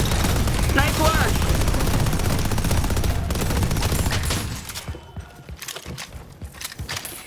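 A turret fires in the hero shooter video game Deadlock. Dense, loud, rapid automatic gunfire fills the first few seconds, then gives way to quieter scattered game sounds.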